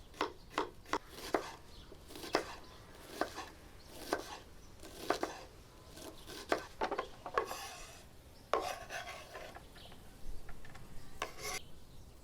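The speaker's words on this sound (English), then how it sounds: "First, we start by cleaning and dicing some white onion." A knife dices white onion on a cutting board in quick, repeated close chops, with short pauses between bursts and some scraping toward the end, no voices.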